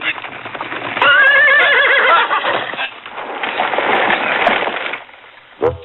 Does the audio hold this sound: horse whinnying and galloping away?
yes